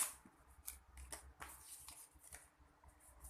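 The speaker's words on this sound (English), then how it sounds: "if you need a scissors for this, please go ahead and get your scissors out" Quiet, close snipping and rustling of scissors cutting paper, in a series of short irregular cuts.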